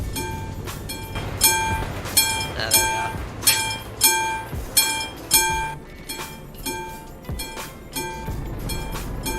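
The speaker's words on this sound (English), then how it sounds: "Euro Cargo Rail. That's so cool. Of course, it has to be the longest train I've ever seen." A long freight train rolls past a stopped truck in Euro Truck Simulator 2, sending out a steady run of regular rhythmic wheel beats over a low rumble. A tonal horn-like hum sits beneath, and a voice speaks briefly.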